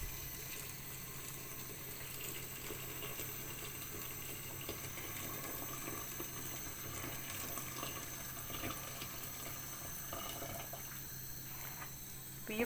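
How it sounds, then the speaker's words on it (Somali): Hot water is poured into a pot while cooking cambuulo, a faint, steady, hissing stream that runs on evenly with little change. "biyo kulul aan ku daraa"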